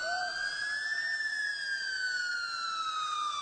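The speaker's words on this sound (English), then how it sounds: "until I finally heard sirens in the distance" A wailing emergency siren sweeps slowly up and down at a distance, a steady, fairly faint tone over a quiet background.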